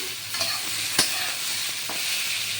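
Ash gourd is stir-fried in a pan, a continuous close sizzle with sharp scraping strokes of a spatula against the metal.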